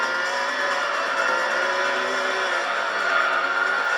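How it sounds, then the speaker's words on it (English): A race car spins out in Gran Turismo 3, its engine holding a steady, sustained whine with faint tire skid noise throughout, continuous and moderately loud. "Speaking of scary, just spun out."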